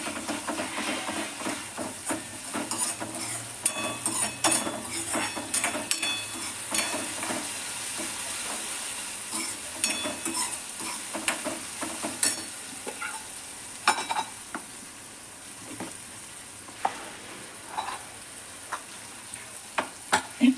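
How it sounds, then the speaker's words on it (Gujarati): Ginger, garlic and green chilli paste sautés in hot oil in a pan, giving a steady close sizzle and crackle with scattered clicks and scrapes of stirring throughout. "હવે આને પણ થોડીક વાર તેલમાં સાતળશું ફ્રેન્ડ્સ"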